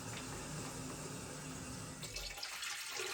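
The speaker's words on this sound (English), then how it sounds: "That's the clean water that's coming out beside it" Water pours and splashes steadily out of an auto scrubber's tank after cleaning mud and residue from laminate flooring, a continuous close rushing flow that shifts slightly near the end, with no talking.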